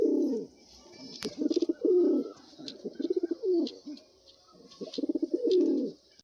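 Pigeons in a loft coo in repeated rolling phrases, several rounds of low throaty calls with short pauses between, close and fairly loud, with faint higher chirps in the background.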